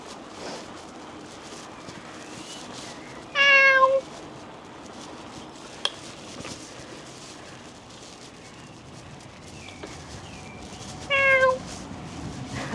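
A cat gives two distinct meows spaced several seconds apart, each a short clear call standing out over a quiet, faintly rustling outdoor background.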